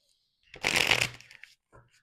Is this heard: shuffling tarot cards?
yes